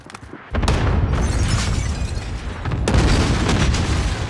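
Cluster strike explosions in a military shooter video game: after a brief lull, a heavy, rumbling barrage of overlapping booms and blasts that rolls on continuously, swelling again partway through, loud and close with no talking.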